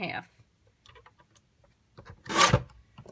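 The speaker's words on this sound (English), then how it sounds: "Mamma Jamma cutter here." A paper cutter trims a sheet of cardstock for a Stampin' Up! bridge fold card in one short, close rasping slide, with brief voice and faint handling noise around it.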